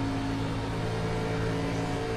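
Steady, loud drone of a NASCAR race car engine at Atlanta in the iRacing sim, a constant humming tone with no revving swell, heard alone.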